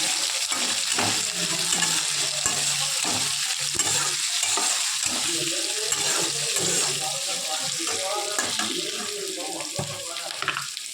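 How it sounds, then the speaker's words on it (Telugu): Curry leaves and tomatoes are stirred in a frying pan, giving a steady hissing sizzle with repeated scraping and wet stirring strokes close by. A voice talks faintly underneath part of the time. "కరివేపాకు టమోటాలు వేసుకోవాలి బాగా అటు ఇటు ఇటు మిక్స్ చేసుకోవాలి"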